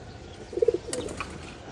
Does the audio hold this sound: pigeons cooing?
yes